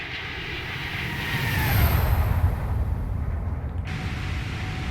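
Airbus A321neo jet engines in a flight simulator game flyby, a steady broadband roar that swells toward the middle and then eases, with a faint high whine on top and no talking.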